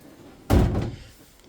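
A shower door inside an Autosleeper Broadway EL motorhome swings shut with a single solid thud and brief rattle, close and loud, fading quickly into quiet.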